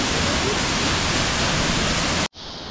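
Loud, dense rush of a waterfall in Costa Rica, constant and close, cutting off abruptly near the end into a quieter hiss.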